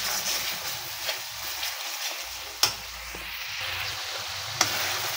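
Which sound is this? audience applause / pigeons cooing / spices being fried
spices being fried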